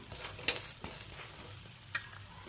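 Ragi roti cooks in oil on a hot pan, a soft close sizzle broken by a couple of sharp scraping clicks of a utensil against the pan.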